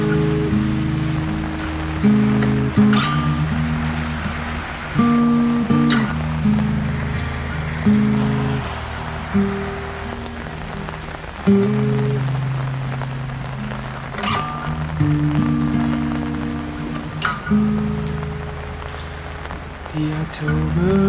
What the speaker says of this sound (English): I'm going to channel my inner plant and relish in the soothing embrace of the rain.